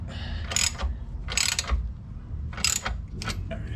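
Ratchet clicking in short bursts while tightening the eccentric bolts on a Porsche 911 rear suspension; three or four close, crisp ratcheting strokes separated by brief pauses, with no talk.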